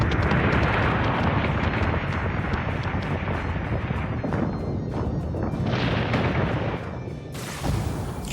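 Missiles slam into a warship during a space battle in Battlestar Galactica Deadlock, giving a dense, continuous roar of rumbling blasts and booms that stays loud for several seconds before a brief hissing burst near the end.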